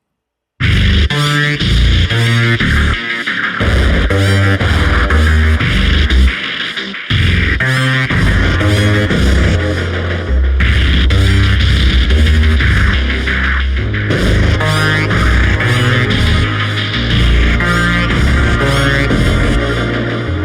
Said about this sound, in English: when we add in the arpeggiator, now it's going to sound like this